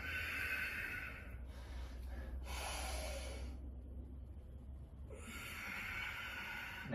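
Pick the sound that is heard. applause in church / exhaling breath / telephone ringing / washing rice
exhaling breath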